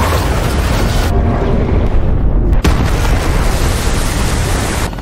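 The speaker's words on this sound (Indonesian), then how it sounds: "1 menit lagi kapal akan meledak" A ship in a movie blowing up after a missile strike: a loud, sustained, rumbling blast with a deep roar that fills the whole stretch, briefly dipping before surging again, with no voices.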